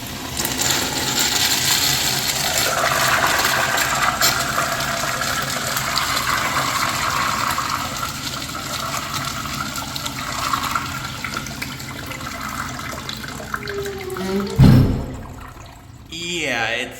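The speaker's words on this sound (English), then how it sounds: "Very weird flush. Let's have a look at ball rinse now." A 1980s–1990s second-generation Crane Manhattan urinal flushing, a long loud rushing of water with mechanical rattling, ending in a sharp clunk as the flow cuts off, with a voice talking near the end.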